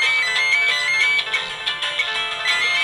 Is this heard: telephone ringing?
yes